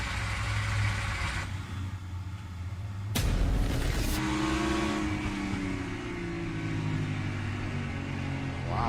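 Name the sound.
NASCAR Cup Series race car engine at Richmond Raceway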